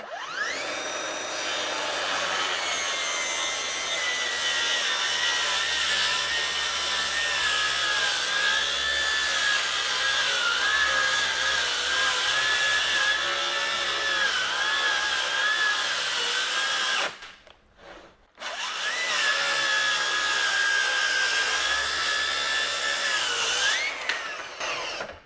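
A RIDGID R8658 18V brushless rear-handle worm-drive circular saw whines loudly and steadily through a 22.5-degree bevel cut in wood, briefly cutting out partway before spinning back up and running on.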